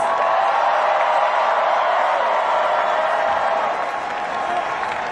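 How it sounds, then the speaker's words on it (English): Steady, loud applause from a large crowd at a New York City mayoral election victory event, with scattered cheers and whoops mixed into the sustained clapping. "so please give them all a round of applause."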